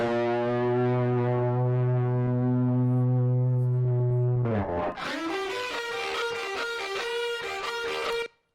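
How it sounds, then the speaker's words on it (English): Layered, heavily distorted electric guitars play a theme from Zack Snyder's Justice League, a sustained low droning chord giving way to a bright, dense, driving riff, loud and continuous with no talking. "So, if we were to only solo all the guitars together,"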